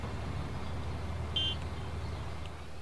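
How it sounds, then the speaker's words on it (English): A bus horn in the Bus Simulator 18 driving game gives one short, faint beep in the middle over a steady low engine rumble. "Beeping the horn."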